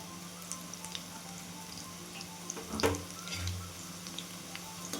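Spinach vada made with besan fry in oil in a heavy-bottomed kadhai, giving a faint, steady sizzle with scattered small pops and one louder bubbling surge near the middle.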